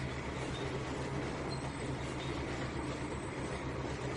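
A simulated train in Trainz 2019 pulls forward, producing a steady, quiet rumbling drone of rolling wagons with no speech.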